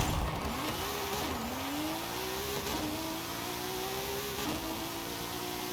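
A drag car in the racing game Forza Horizon 5 launches and revs, its engine note climbing steadily in repeated rising sweeps with gear-change dips, sustained and moderately loud against a continuous broadband game-audio background.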